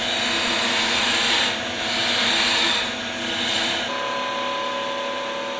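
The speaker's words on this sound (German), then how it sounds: "Mit dem konischen 6 mm Abstechstahl drehen wir nun eine Platte an der Reitstockseite des Rundstabes an." A wood lathe turning a round rod while a conical 6 mm parting tool scrapes in, a steady motor hum with a rising and falling cutting rasp in several slow passes, no talking.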